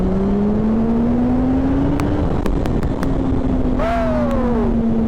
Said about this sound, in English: when you let this thing rev out, it's just ridiculous